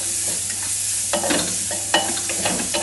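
Drumstick leaves stir-fried in hot oil, a close, steady sizzle broken by a few louder scraping stirs of the spatula, with no talking.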